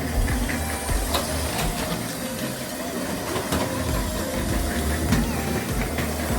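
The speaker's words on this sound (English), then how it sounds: "HyperLoop train." A steady whooshing, rumbling rush like a train running along, from a toy hyperloop train, with a few sharp clicks and knocks scattered through, continuous and fairly close.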